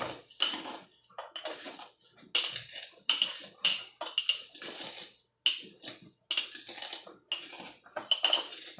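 Dried dehydrated onion pieces pressed and smashed down into a glass jar, a series of close, irregular crunching and clinking bursts separated by short pauses.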